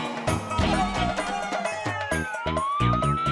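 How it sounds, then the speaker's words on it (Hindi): A police jeep siren wails and rises in pitch through a short stretch, mixed with a rhythmic dramatic music track in a village comedy scene, loud and continuous. "ये बापूजी सायरन की पुलिस जीप है।"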